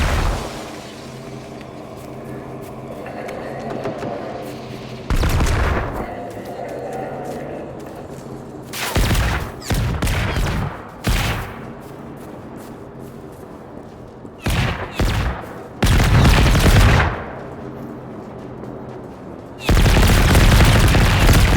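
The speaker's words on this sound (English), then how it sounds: "Cool, now it's shooting at me too." A robot enemy fires at the player in Generation Zero, set in 1980s Sweden. Repeated loud bursts of gunfire, some short and some sustained, break through a quieter background of ambience and movement.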